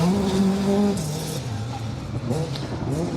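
A Renault Clio Maxi rally car with a 2-litre engine passes on a rally stage, its engine note rising and falling as it goes by at a moderate distance, under commentary.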